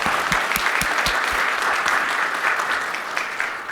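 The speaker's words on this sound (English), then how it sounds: "A round of applause for all of our three speakers" Sustained applause from a workshop audience after a three-speaker panel, dense and steady clapping filling the room at close range, with no voices over it.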